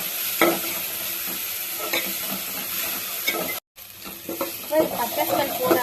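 Onions with ginger, garlic and green chili paste sauté in a pan for a chicken rice dish, a continuous close sizzle with scraping spoon stirs, briefly cutting out before resuming.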